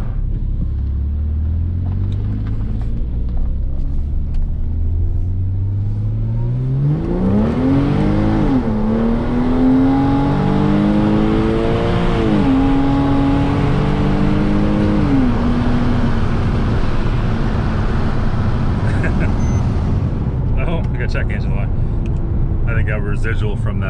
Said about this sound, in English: you can definitely hear the air intake a lot more